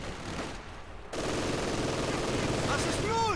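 Gunfire from the video game Company of Heroes 2, a dense burst of rifle and machine gun fire in a World War II battle near a church, loud and continuous, with a brief drop-out early on.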